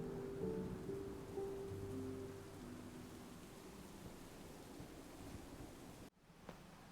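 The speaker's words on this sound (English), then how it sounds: "Even though there is such a heavy downpour outside" Heavy rain pours down in Minecraft as a steady, dense wash of noise that fades slightly over several seconds before cutting off abruptly near the end.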